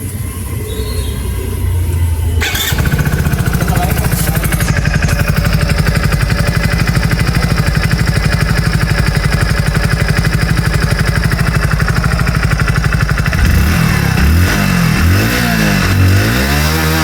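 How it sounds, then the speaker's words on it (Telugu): A 2025 Hero HF Deluxe Pro motorcycle runs close by through its single long exhaust. It starts quietly, then settles into a loud, steady idle with a fast, even beat, and the engine revs near the end. No one speaks. "ఒకసారి ఎగ్జాస్ట్ సౌండ్ వినండి"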